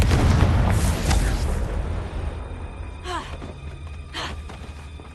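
A Confringo fire spell blasts in the Hogwarts Legacy video game, a loud booming burst up front that rumbles and fades, followed by a couple of brief crackling flares over a low steady game ambience.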